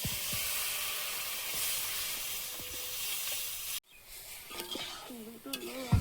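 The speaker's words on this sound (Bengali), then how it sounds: "সামান্য একটু লবণ এবার ডালটা দিয়ে দেবো" Mung dal hits a hot pan with a dense, steady sizzle and scraping stirs, then the hiss drops sharply and quieter frying continues with brief clinks of utensil against the pot.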